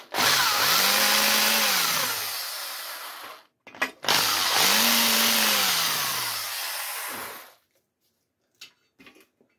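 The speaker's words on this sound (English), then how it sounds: "See, that'll act as a guide now for my drill bit." An electric drill drills into metal, whining twice in long bursts, pitch rising then sagging under load, with a short pause between and faint clicks after.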